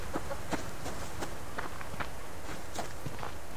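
Chickens cluck in the Subsistence survival game, with short scattered calls over steady game ambience and what may be footsteps. The calls are close and moderately loud.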